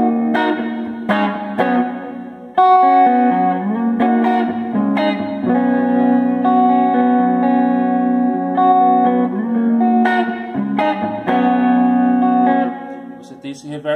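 Electric guitar chords and melodic lines played through a Boss Katana amplifier set to hall reverb ring out with long, smooth decaying tails. The playing is loud and close and continues almost without a break.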